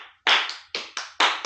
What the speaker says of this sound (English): Can you clap the rhythm of 16 notes?